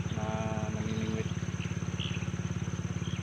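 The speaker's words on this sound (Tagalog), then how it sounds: "medyo may naririnig kayong andar ng makina, kasi dito sa katabi ko ay merong water pump na nag-iikot ng tubig" A water-pump engine circulates irrigation water close by at a fishing spot, its rapid, even putter going strongly throughout, with a brief higher tone over the opening second.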